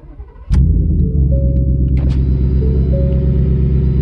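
A 2020 Ford F150 regular cab with a 5.0 V8 and FCP Earthquake exhaust cranks and catches after a short quiet moment, then settles into a loud, deep, steady rumble heard from inside the cab.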